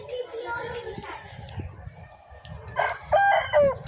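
A rooster crows loudly near the end, a drawn-out bright call over a background of murmured voices and clucking fowl.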